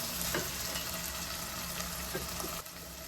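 Green chillies fry in a pan with turai nearby, a soft continuous sizzle with a few light stirring scrapes, fairly quiet and without speech.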